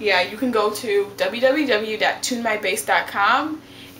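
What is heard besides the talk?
None of the usual background noises is heard.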